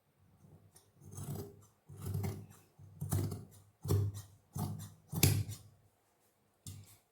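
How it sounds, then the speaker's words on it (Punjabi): Scissors snip through fabric while a pyjama pocket is being cut to shape, about six distinct rasping cutting strokes at a steady rhythm, close and clear, with brief pauses between cuts and no talking. "ਇਧਰੋਂ ਆਪਾਂ ਇਹਨੂੰ ਸ਼ੇਪ ਦੇ ਕੇ ਨਾਲੋਂ ਕੱਟ ਦਾਂਗੇ"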